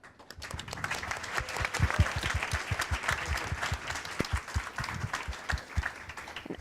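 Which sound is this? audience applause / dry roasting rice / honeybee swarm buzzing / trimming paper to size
audience applause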